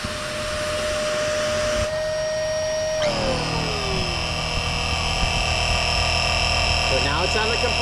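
A Topump TPS260 electric SUP pump drones loudly and continuously while inflating a paddleboard. Around three seconds in, its whine drops in pitch as it switches to compressor mode, and it keeps running at a steady roar.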